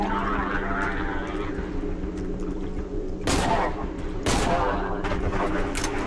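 Gunshots from the horror video game Cry of Fear: two loud, sharp blasts about a second apart, standing out over a constant droning in-game background.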